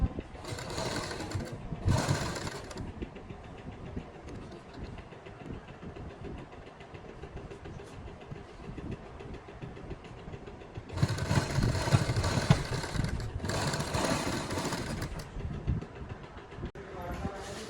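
Electric sewing machine stitching along the folded edge of a child's frock, running in bursts: two short runs at the start, a long quieter stretch with faint handling noise, then two sustained loud runs near the end.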